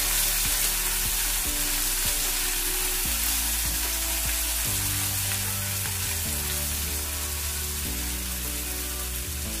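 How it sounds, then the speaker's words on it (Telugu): Chopped chukkakura (sorrel greens) with turmeric frying in a pan for a moong dal dish, a steady close sizzle with stirring scrapes throughout, a low hum running underneath, and no talking. "వీటిని 1 నిమిషం పాటు వేయించుకుందాము"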